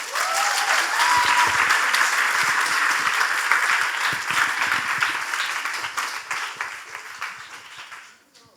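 Dense, steady applause from an award ceremony audience at a youth leaders summit, loud and continuous before thinning and fading out at the end.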